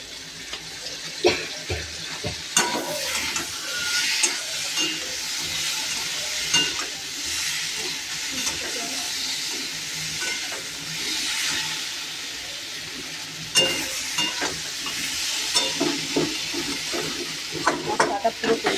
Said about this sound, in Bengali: মশলাটা পুরোপুরি ভাজা হয়ে গেছে।